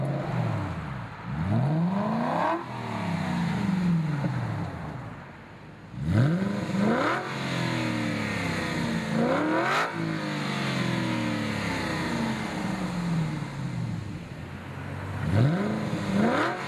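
An Aston Martin V8 Vantage with Fabspeed high-flow sport cats and an X-pipe blips its throttle in several loud, rising revs, then pulls away with a long, sustained engine note, heard close and alone.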